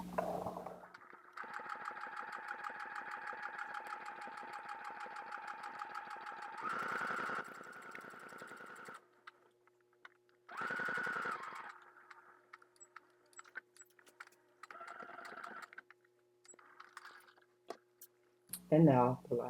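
A sewing machine stitches the lining of an upcycled leather purse, running in a steady, even hum for several seconds. It stops, then runs again in shorter bursts with quiet pauses between them.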